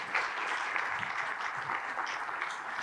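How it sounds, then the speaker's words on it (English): An audience at a yacht sales summit claps in a dense, steady round of applause that stays even throughout, with no voices over it. "give him a nice round of applause"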